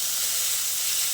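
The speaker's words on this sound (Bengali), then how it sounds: "পেঁয়াজটাকে এবার একটু হালকা করে ভেজে নেব" Sliced onion and garlic fry gently in a pan for a fish curry, giving an even, close, continuous sizzling hiss with no voices over it.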